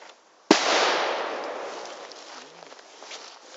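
A firecracker, a La Bomba type, bursts with a single sharp, loud bang close by, followed by a long fading echo and rumble across an outdoor setting during a St. Stephen's Day fireworks session.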